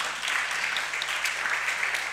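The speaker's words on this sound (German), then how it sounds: "Klatschen ist immer erlaubt." An audience at a panel discussion applauds with steady, dense clapping that holds at an even level for the full two seconds, no voices over it.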